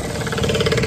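A motorcycle engine running on a street in Pinar del Río, Cuba, a loud, close, steady mid-pitched thrum with a fast throbbing pulse, heard alone for about a second.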